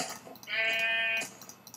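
A Minecraft sheep bleats once, a single wavering in-game baa lasting under a second, fairly clear over quiet background.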